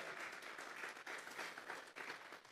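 A church congregation claps hands in steady, sustained applause, a dense continuous wash of clapping filling the space with no pauses.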